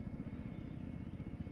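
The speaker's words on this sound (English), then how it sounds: "Oh, there's C-130s flying by us." Low, rumbling propeller drone of C-130 transport planes passing close by in the Arma 3 military game, heard from inside a helicopter, a steady pulsing engine roar filling the whole short stretch with no talk.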